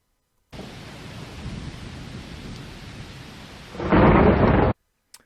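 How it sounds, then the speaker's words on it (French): Thunderstorm with steady rain hissing throughout, then a loud rumbling thunderclap rolling in near the end before cutting off; no voices. "on entend le tonnerre à peu près à 4 secondes"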